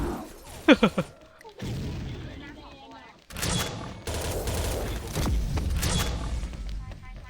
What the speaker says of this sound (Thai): ทำไมมีแต่คนยิงผมวะ